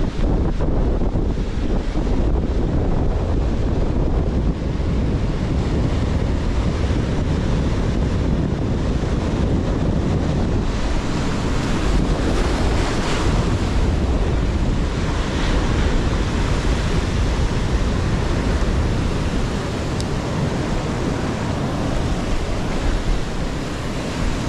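Sea swell and waves break on a shore under strong wind, a dense, continuous roar of surf and gusts with heavy wind buffeting on the microphone that stays loud and steady throughout, with no voices.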